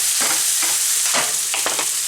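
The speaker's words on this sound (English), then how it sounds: "That pan is spitting on my arm a bit because I just washed the cabbage" Freshly washed, still-wet cabbage sizzles loudly in a hot pan, a dense continuous frying hiss broken by several sharp spitting pops and stirring scrapes, close and with no voices.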